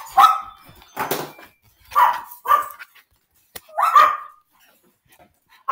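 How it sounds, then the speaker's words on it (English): Several dogs indoors bark in short loud bursts, five or six sharp barks separated by brief silences. "my dogs are going crazy"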